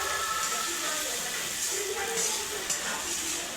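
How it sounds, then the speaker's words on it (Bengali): Spice paste for chicken Manchurian frying in a pan, a steady close sizzle and hiss with occasional stirring scrapes, while someone talks faintly over it. "এবার আমরা ভালো করে মশলাটা কষবো।"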